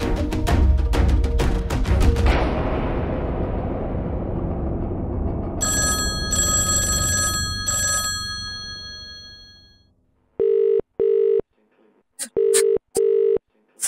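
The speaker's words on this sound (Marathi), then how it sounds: "वाडे तर फोन करते." A landline telephone is dialed in an indoor TV drama scene: after a loud noisy passage fades out, a run of electronic keypad tones sounds, then clean repeated ringing pulses follow in steady bursts.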